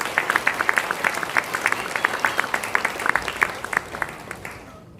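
Applause from the congregation at a church ordination and installation ceremony for elders and deaconesses, with many hands clapping steadily at close range before fading out at the end.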